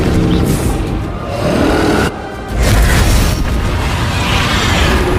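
Spell explosions from Bombarda and Confringo in the Hogwarts Legacy video game boom loudly one after another, continuous and close, with a brief dip in the middle before the blasts surge again.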